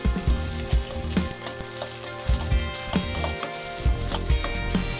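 Onions tipped into hot oil in a pan for a semi-dry chicken pepper dish, giving a steady close sizzle and crackle throughout, with occasional stirring clicks and no talking.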